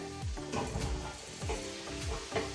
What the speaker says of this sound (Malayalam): ഇനി അതിലേക്ക് മഷ്റൂം ഇട്ടൊന്ന് വഴറ്റി എടുക്കണം.